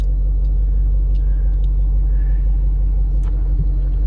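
A 2011 Shelby GT500 Convertible with 750+ horsepower idles with a steady, loud, deep rumble that holds evenly throughout, with a few faint clicks above it.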